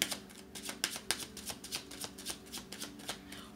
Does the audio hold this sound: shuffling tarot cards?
yes